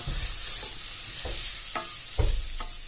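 Chopped onions sizzling in a pan while being stirred for a Bengali taro-root dal, with several distinct spoon scrapes and clacks over a steady close frying hiss.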